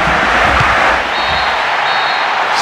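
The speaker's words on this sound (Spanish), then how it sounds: "Me parece que se viene la ovación más grande de la tarde." A roaring stadium crowd ovation in the football video game PES 6, a broad loud swell of cheering that fills the whole stretch and eases slightly toward the end.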